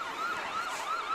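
Ambulance siren in a Christmas parade in Toronto, wailing steadily and continuously at moderate distance, heard on its own.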